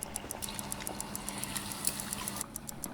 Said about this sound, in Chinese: 下锅大概炸40秒左右，中间记得翻面